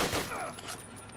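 Gunfire from a World War II video game, a short burst of shots that fades over about a second, with a faint voice underneath.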